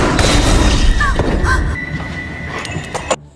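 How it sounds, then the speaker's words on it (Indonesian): A loud boom at the start followed by a long decaying rumble, with a few sharper knocks and thuds near the end. "suara tembakan menggema."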